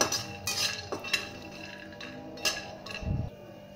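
Peanuts being dry-roasted and stirred in a pan, with close scraping and light clinking of a metal utensil against the pan in irregular strokes, quiet overall with one duller knock near the end.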